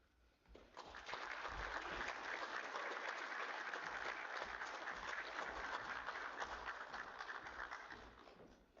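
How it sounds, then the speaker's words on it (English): Audience applause at a Greene County athletic hall of fame induction ceremony honoring the 2025 inductees: a crowd of clapping hands swells in quickly, then holds a dense, steady roar of applause that fades slightly toward the end. "let's give a final round of applause to all of our 2025 inductees"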